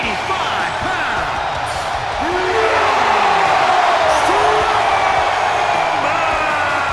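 Arena crowd in the WWE 2K20 video game roaring and cheering in Buffalo for a wrestler's entrance, a dense, loud, sustained din that swells midway, with a commentator's voice faintly over it.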